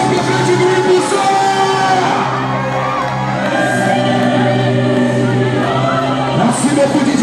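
Crowd at a Lille event whooping, yelling and cheering in a loud continuous roar, with individual shouts rising over the mass of voices.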